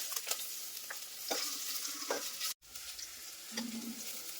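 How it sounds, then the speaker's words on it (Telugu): Grated coconut frying in ghee gives a faint, steady sizzle with a few soft stirring scrapes and a short dropout midway. "కొబ్బరి వేసుకొని ఫ్రై చేసుకోవాలి"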